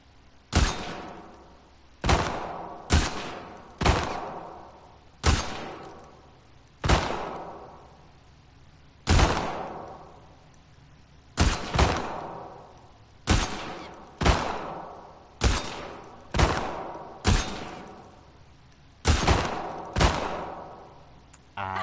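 Single gunshots crack out one by one in a video game carnival shooting contest, about sixteen sharp loud reports at irregular intervals of roughly one second with brief decaying tails, no talk between shots.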